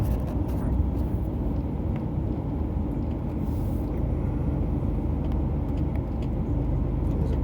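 Steady low road rumble from inside a truck cab on a narrow road as an oncoming car moves over to pass, the engine and tyre drone continuous and loud with no distinct pass-by peak.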